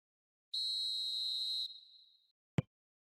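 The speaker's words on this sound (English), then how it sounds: "And the whistle's gone, presumably for offside." A referee's whistle in the eFootball PES 2021 football video game sounds one sustained shrill blast that trails off, followed a moment later by a single sharp tap, with no voices.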